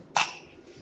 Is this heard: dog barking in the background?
no